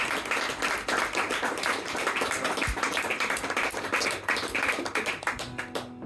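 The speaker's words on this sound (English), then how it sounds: "So round of applause for Pine Vinyl," An audience at an in-store gig in a Portsmouth record shop applauds, with dense, sustained clapping and scattered cheers filling the room at moderate loudness throughout.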